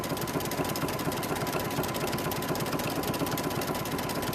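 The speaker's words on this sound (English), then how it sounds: "You can make your zigzag closer if you want more of a satin stitch, or you can do it as I'm doing." A sewing machine zigzag stitches around an appliqué, a steady, fast, even mechanical whir running continuously and close by, with no talk.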